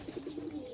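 A Gobinda pigeon on a rain-washed rooftop gives a short run of low rhythmic coos, close and moderately loud, alongside a faint high whistling tone.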